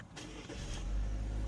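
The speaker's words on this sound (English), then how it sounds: "of course, I'm going to crank the car up." A car engine cranks and catches during a dealer auction inspection, a brief starter whir giving way to a steady low rumble that swells and holds close by.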